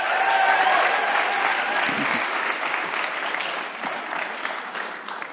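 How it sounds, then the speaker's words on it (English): A live audience at a science storytelling evening in Cardiff breaks into sustained applause, loud and dense at first and easing off slightly over several seconds. "Let's give him a round of applause."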